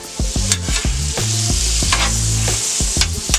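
Mushrooms frying in a steel pan, a loud close sizzle under a quick series of scraping and tapping strokes as they are turned, with a brief hiss rising midway, no speech.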